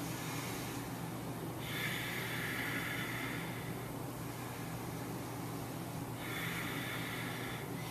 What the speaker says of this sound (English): Exhale, fist of fire too. 3 more times. Hear the breath. Nice fierce exhale.